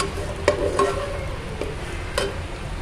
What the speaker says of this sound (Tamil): இதெல்லாம் ஆட் பண்ணி நல்லா ஃப்ரை பண்ணிக்கணும்